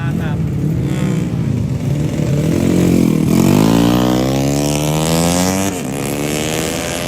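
A motorcycle engine revs on the Lakipadada road race circuit in Rantetayo, rising in pitch to a loud, close peak, then easing and holding a steady drone under background chatter.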